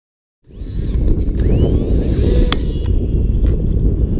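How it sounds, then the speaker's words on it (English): Strong, steady wind roars across the microphone at an RC flying field, a loud continuous rumble that starts abruptly and holds throughout. "We've got a little bit of wind"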